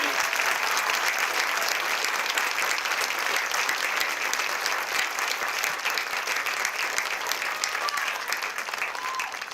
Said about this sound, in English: let's give a round of applause to these students